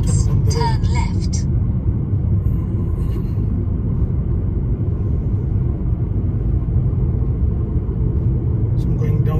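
A car driven down a hill in low gear on a Bolton test route, its low engine rumble and road noise steady and close throughout, with a voice talking over it at the start and end.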